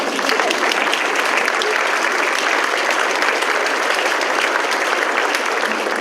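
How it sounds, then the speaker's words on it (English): A campus launch audience at the University of Houston Clear Lake breaks into sustained, even applause, a thick wash of many hands clapping with no talk. "Let's clap."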